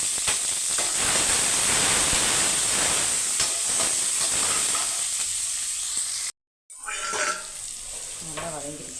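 Chopped onion and tomato sauté in hot oil for a brinjal fry, giving a steady close hiss and sizzle with faint stirring scrapes. A brief silent gap is followed by quieter frying and stirring.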